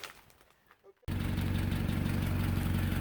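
A Land Rover Series IIA engine starts after a quiet moment with faint background voices, then idles loud and close with a steady low rumble as it warms up.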